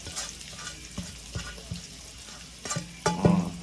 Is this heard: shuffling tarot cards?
no